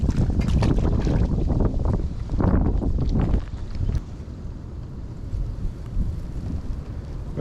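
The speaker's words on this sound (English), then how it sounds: "Because of all this wind" Wind blowing over a pond, heavy gusting roar buffeting the microphone in strong bursts that ease into a steadier lower rumble.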